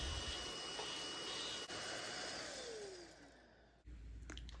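A PrettyCare P1 Pro cordless vacuum cleaner runs close up with a steady, loud whirring motor and airy suction hiss, briefly cut and restarted near the end, no voices.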